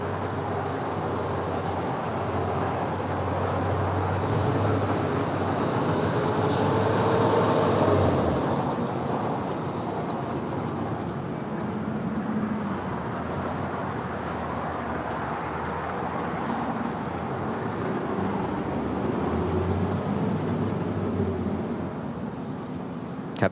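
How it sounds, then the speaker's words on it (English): A Boeing 747-400ER cargo jet taxis at LAX, its low, steady engine rumble and broadband roar heard from a distance, swelling slightly midway, with no voices. "Flight 4851, heading to Wuhan, China. 747-400ER, now starting her taxi over to the 25s"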